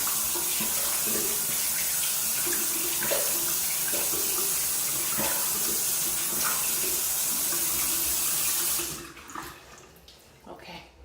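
Tap water running steadily into a sink during face washing, a continuous close hiss and splashing with some small knocks, cut off near the end with a few drips and quieter rustling afterwards.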